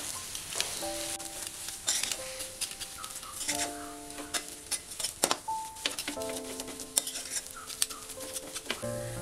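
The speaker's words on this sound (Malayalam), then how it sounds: "ഇനി ഇതെല്ലാം കൂടെ നന്നായിട്ടൊന്ന് മിക്സ് ചെയ്തെടുക്കാം" Red spinach kofta mixture being stirred and mixed, with intermittent clinks and scrapes of a utensil against a pot. Birds chirp in the background, and nobody speaks.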